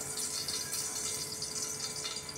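Sunflower oil is poured into a pressure cooker, a brief, soft, continuous liquid stream heard close up with no pause.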